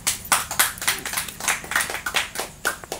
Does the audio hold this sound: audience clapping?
yes